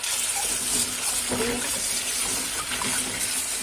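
Grated zucchini being rinsed in water in a kitchen sink or bowl, a steady close wash of running and sloshing water lasting throughout with no talk.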